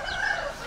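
A fighting rooster crows once, a short, loud, fairly close call heard on its own without talk.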